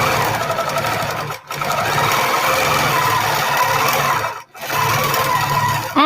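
Quilting machine stitching, a loud steady mechanical whir that runs close and continuous, stopping briefly twice before starting again.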